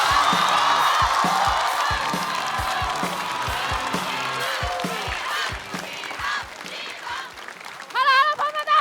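A studio audience at the Chinese stand-up comedy contest The King of Stand-up Comedy 3 claps and cheers to welcome a comedian to the stage, with whoops over a thumping entrance music beat.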